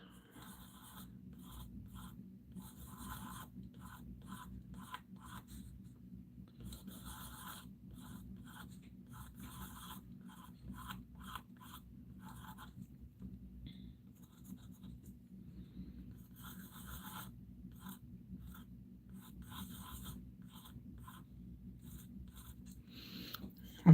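Pencil sketching on paper ahead of a painting, with soft scratchy strokes coming in irregular bursts and pauses, close and quiet, without any talking.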